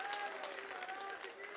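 Brief burst of audience applause at a Hindi comedy poetry gathering, a hasya kavi sammelan, with scattered clapping heard at some distance, fairly faint and steady for under two seconds.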